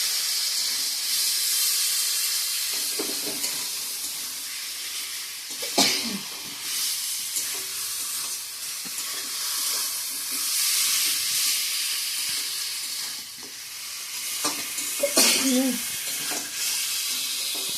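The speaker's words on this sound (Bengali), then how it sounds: "মাংসটা এদিকে কষানো হচ্ছে।" Meat sizzles and hisses steadily in a pan of cooked spice masala as it is sautéed, with occasional stirring clinks and a brief voice in the background.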